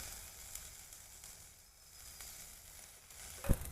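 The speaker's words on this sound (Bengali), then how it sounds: "বন্ধুরা বিরিয়ানির চালটা নেড়ে ছেড়ে খুব সুন্দর করে ভেজে নিতে হবে" Rice for a village-style chicken biryani stirred and fried in a pot, a steady low sizzle with faint scraping running throughout, then a sharp knock of the spoon against the pot near the end.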